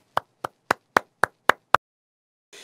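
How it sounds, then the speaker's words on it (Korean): Seven sharp, evenly spaced hand claps ring out close and distinct in a steady rhythm at a Shincheonji church gathering welcoming its chairman, followed by a pause and a brief burst of softer noise. "여러분 모두 큰 박수 부탁드립니다."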